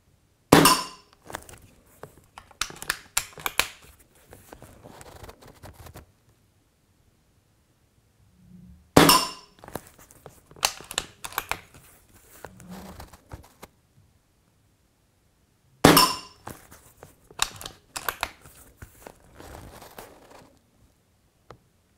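A First Strike Eagle Deluxe air rifle fires three bursts of sharp, rapid shots, each nine-shot magazine followed by a cluster of metallic clinks and impacts on targets, separated by quiet pauses.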